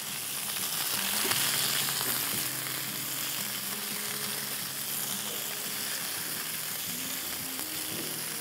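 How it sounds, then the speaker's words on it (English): Potatoes or chicken sizzle in a frying pan as they are stirred, a steady close hiss with occasional scraping of the utensil against the pan. "I'm just going to make sure I keep stirring it so that nothing sticks to the frying pan"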